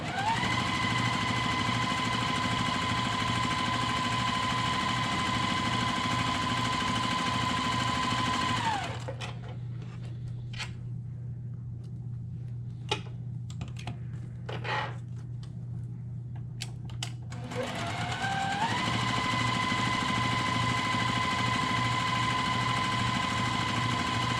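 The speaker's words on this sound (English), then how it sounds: "I'm going to sew 1/4 inch both sides of that drawn line." A sewing machine sews quarter-inch seams along both sides of a drawn line on a quilt block, running in a loud steady whir that stops briefly in the middle, leaving a low hum and a few clicks, then starts again.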